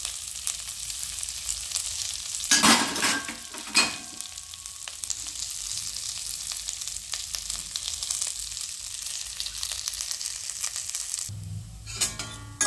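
Curry leaves and cumin seeds roasting in a pan over low heat: a steady, close sizzle and crackle with brief bursts of popping and stirring scrapes, a louder clatter near the end.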